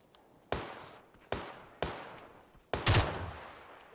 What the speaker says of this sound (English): Oh, he just shot that guy.